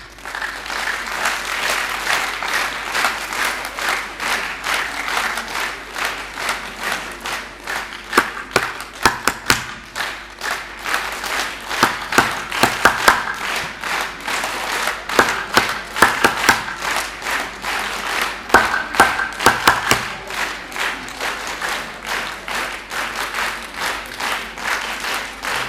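Sustained applause from an audience at a Basant Panchami celebration at a college, with dense clapping throughout and sharper individual claps standing out, steady and fairly loud for the whole stretch.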